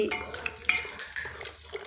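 A spoon stirs freshly cooked, steaming dal in a metal pot, giving close scraping and clinking strokes against the sides in an uneven rhythm, with no talking.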